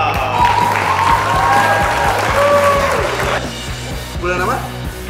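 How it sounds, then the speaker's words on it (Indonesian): Applause breaks out during a toy review of the Soul of Chogokin Daizyujin robot, a steady wash of clapping underneath voices and tonal sounds, loud and close. "Tepuk tangan"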